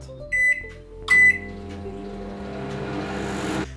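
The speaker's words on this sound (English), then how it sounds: "put it into a microwave and let it melt" A microwave oven melting chocolate gives two short beeps as its buttons are pressed, then settles into a steady humming run with a low drone, close and alone.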